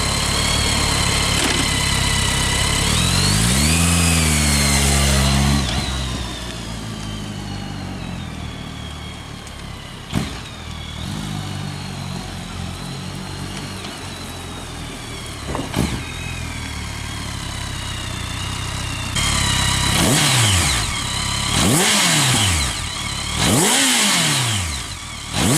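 A BMW K1600GTL motorcycle's liquid-cooled 1649cc four-stroke inline-six revs up loudly, with a rising-and-falling surge early on and then several quick, sharp throttle blips near the end over a steady idle.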